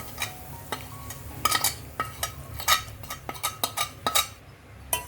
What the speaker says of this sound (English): roast it to the light brown, add a cup of milk and stirring it continuously